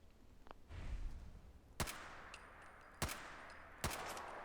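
Three evenly spaced sharp gunshots aimed at a laser turret in Fallout 4, each a loud crack followed by a short metallic ring, over low rumbling game ambience, with no talk.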